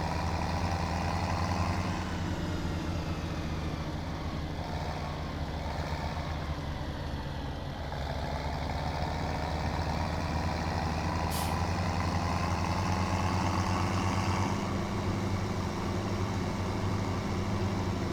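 Tractor engine driving in Farming Simulator 2017, heard from inside the cab: a steady, loud diesel drone with a low rumble, continuous and alone.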